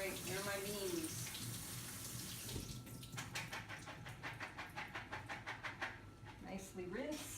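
Tap water running while beans are rinsed in a kitchen sink, a continuous splashing stream with rhythmic sloshing pulses as the beans are shaken under it, close by.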